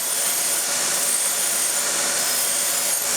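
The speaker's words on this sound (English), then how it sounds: "So we're going to deburr these components." Freshly cut metal rope coiler components are deburred with a power tool, a steady loud broadband grinding hiss that runs continuously and evenly throughout.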